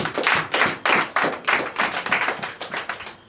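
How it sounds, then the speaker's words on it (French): A church congregation at a night deliverance service in Comè, Benin, claps in a steady, brisk rhythm. The sharp hand claps come about three per second, loud and close, with no talking over them. "Donnez l'acclamation au Seigneur Jésus."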